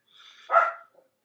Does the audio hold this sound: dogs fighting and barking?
yes